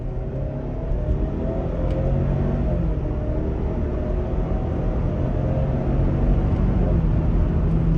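A 2021 Ford Explorer Limited in sport mode accelerates up a freeway on-ramp, its engine drone rising steadily beneath loud road and wind rumble from inside the cabin.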